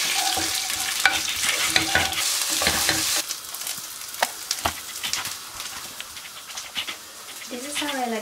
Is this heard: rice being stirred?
yes